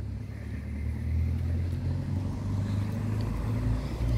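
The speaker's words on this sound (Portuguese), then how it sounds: "tá vindo carro ali" Low rumble of a car approaching along a town-centre street in Nova Petrópolis, a steady moderate engine-and-tyre noise that swells gradually as it nears, with no voices.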